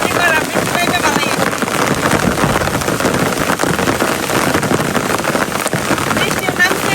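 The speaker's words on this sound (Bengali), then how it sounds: "কি জোরে বৃষ্টি নামছে" Heavy rain pours down outdoors near a village pond. A dense, constant hiss of falling water lasts the whole time, loud and unbroken, with a faint voice barely audible underneath.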